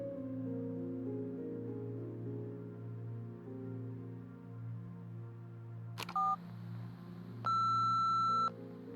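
Voicemail download beeps in the video game Nobody Wants to Die: a short two-tone blip followed by a longer steady electronic beep, clear over a low, droning ambient music bed.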